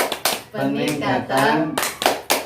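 A group claps together in a rhythmic patterned clap, the P2K2 clap, at a community family health and nutrition session. Sharp bursts of hand claps come in short sets, mixed with voices chanting and talking over them.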